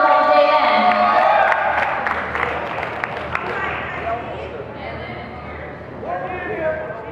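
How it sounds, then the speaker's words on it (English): An audience at an urban music awards show applauds and cheers for a winner, the crowd noise loud at first and then thinning, with voices and shouts mixed through it. "Your round of applause, Jalen."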